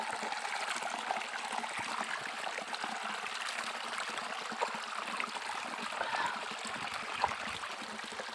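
A forest stream trickles and flows steadily nearby, a soft continuous wash of water at low volume with no voices.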